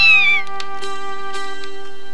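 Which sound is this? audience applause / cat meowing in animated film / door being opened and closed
cat meowing in animated film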